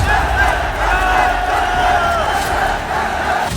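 A large crowd of students at a protest rally in Delhi, a loud dense roar of many voices chanting and shouting together, sustained throughout with a low rumbling undertone.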